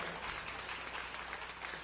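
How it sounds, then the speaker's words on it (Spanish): An audience at a New Year's music show in Peru claps steadily, a dense, even wash of applause heard close and without pause. "¡Fuertes los aplausos!"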